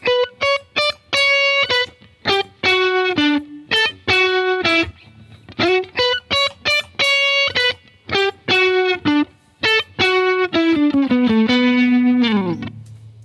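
An electric guitar run through distortion and chorus effects plays the intro riff of a worship song, quick picked melodic notes in rhythmic bursts with short pauses, close and alone, ending on a sustained bending note.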